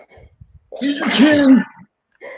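A single sharp sneeze bursts out close by during a live art stream, with people talking briefly before and after it.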